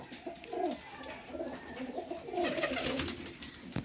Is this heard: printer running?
no